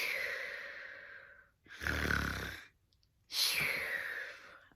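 A person mimics loud snoring with two long, drawn-out breathy snores separated by a short snort-like inhale, close and alone with no other speech.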